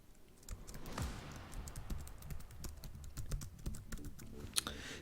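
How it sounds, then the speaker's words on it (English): Quiet, close typing on a computer keyboard, with a steady scatter of soft key taps and no voices. "type the name of your school"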